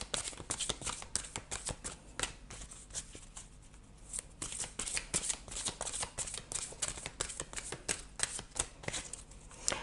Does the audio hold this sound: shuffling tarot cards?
yes